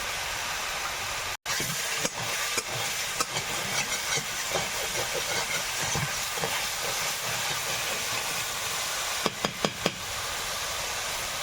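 Pieces of onion fry in hot oil in a pan while tomatoes wait to go in, a broad, steady sizzling hiss with a few sharp pops and clatters of a utensil.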